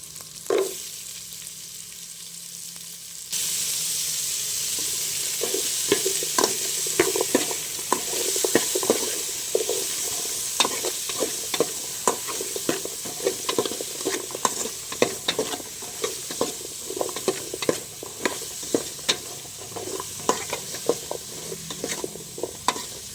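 Squash sautéing in a pan with garlic and onion for ginataang monggo, a steady close sizzle with frequent scraping stirs and utensil clicks throughout, no talking.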